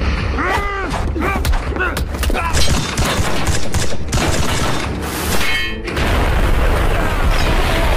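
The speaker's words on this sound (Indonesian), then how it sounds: "Mendengar terjadinya ledakan, Yon meminta anak buahnya untuk mengecek" Loud booms and crashing impacts burst out in quick succession in a film explosion scene, with metallic clangs and rumbling debris and chaotic aftermath.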